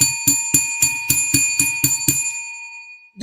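A bright handbell rung as a sound effect on a football player-grades show strikes nine quick, evenly spaced times, then leaves a clear ringing tone that slowly fades, loud and alone.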